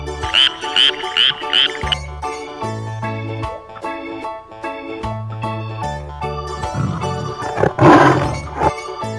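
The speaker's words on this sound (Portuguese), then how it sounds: "sapo" A frog croaks in a quick series of loud, repeated calls, with a cheerful children's music backing playing underneath.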